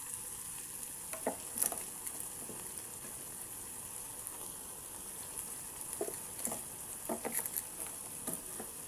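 Chili powder, coriander powder and turmeric stir into a frying pan of cooked ginger-garlic paste for a simple mutton botti curry, with a steady close sizzle and scattered spoon scrapes and clinks through the mix.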